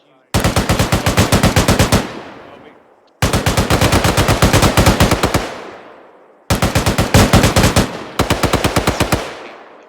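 Sustained automatic gunfire from the tactical shooter game Squad, loud and close, in three long bursts of rapid evenly spaced shots with brief pauses between them.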